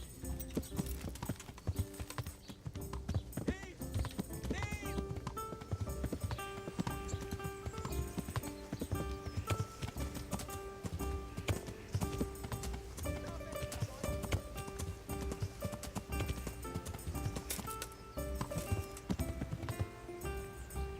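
Rapid hoofbeats of a horse galloping away clip-clop steadily over game music with sustained tones in Kingdom Come: Deliverance, the galloping rhythm continuing throughout at a moderate level.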